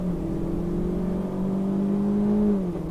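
A 1999 Honda CB 500 twin-cylinder motorcycle engine while riding, a steady, fairly loud droning hum at cruising speed that rises slightly in pitch, then settles, with no talk over it.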